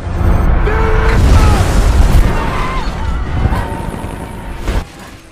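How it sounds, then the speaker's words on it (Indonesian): A heavy, loud explosion in a control room booms and rumbles on, with crashing debris, then fades to a lower roar near the end. "ledakan keras pun akhirnya meletus di ruang kendali itu"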